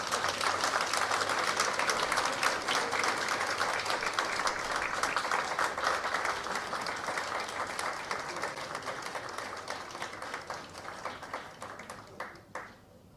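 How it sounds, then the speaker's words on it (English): An audience at a Justices of the Peace commissioning ceremony in Kingston, Jamaica claps in sustained applause, a dense steady patter that gradually thins and fades toward the end. "Another round of applause for Miss Paula Vanessa Llewellyn"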